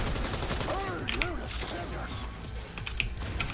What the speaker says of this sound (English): Oh, and I got myself a shotgun. So, let's give him a round